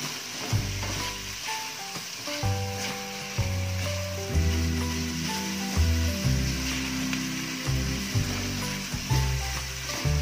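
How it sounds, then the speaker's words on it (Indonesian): Butter-coated fried chicken pieces frying in a pan, a steady sizzle running under louder tonal background music for the whole stretch. "Sekarang kita boleh turunkan kita punya ayam."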